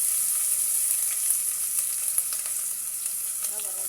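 Chopped onion sizzling in hot oil for a peas, rice and greens dish, a steady bright frying hiss with faint crackles and a few light stirring taps, close and continuous.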